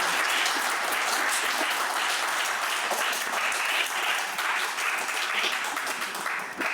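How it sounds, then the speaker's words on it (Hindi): A seated audience at a literary event marking fifty years of an author's writing bursts into dense, sustained applause that fills the hall evenly from start to finish with no voices above it. "तालियों से वंदन और अभिनंदन"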